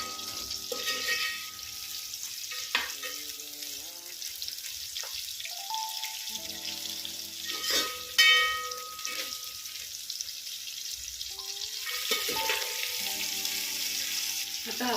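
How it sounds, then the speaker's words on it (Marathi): Chopped onion sizzles in a pan for a paneer dish, a steady close frying hiss under soft background music, with occasional louder stirring bursts. "जो आपण चिरलेला कांदा होता तो टाकून घ्यायचा आणि याला चांगलं परतवून घ्यायचं लालसर होईपर्यंत"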